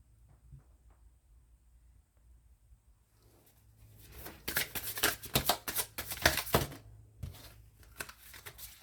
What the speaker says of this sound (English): I want to shuffle these cards good.